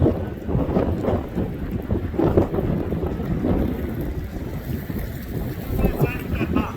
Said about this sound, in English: And it's windy up here